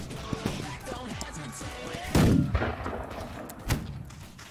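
A few loud musket shots from the video game Holdfast crack out amid battlefield noise, one heavy blast in the middle and a sharper report later, with voices talking throughout.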